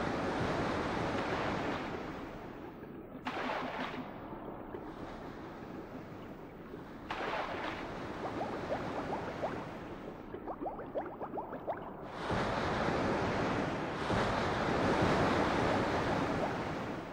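Ocean waves in the video game Boku no Natsuyasumi 2, a steady rushing wash of surf with swelling and receding surges and some wind noise, continuous and moderately loud, with no talking.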